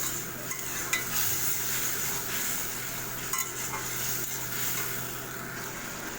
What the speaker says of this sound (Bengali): হাফ চা চামচ হলুদ আর এই যে পরিমাণ মতো লবণ দিয়ে আমি মশলাটাকে সুন্দরভাবে কষিয়ে নেব